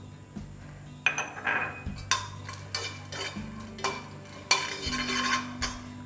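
Almonds and cardamom pods scraped and stirred in a pan, with repeated metallic spoon clinks against the pan and brief scraping bursts at a close, moderate level and no voices.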